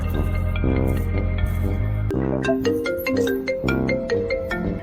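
A phone ringtone plays a bright electronic melody with a bass line, loud and continuous, no voices.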